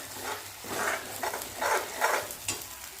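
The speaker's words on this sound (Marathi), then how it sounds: "आता आपण याच्यामध्ये पाणी ॲड करूया" Water poured into a sizzling moong dal gravy in a pan, giving a fluctuating hiss and splashy bursts of sizzle rising and falling over a few seconds, moderately loud with no talking.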